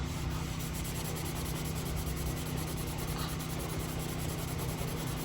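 Rubbing compound is worked by hand into a rusty chrome bumper on a Peterbilt 359 truck, giving a steady, close scratchy rubbing hiss that continues without pause, no speech.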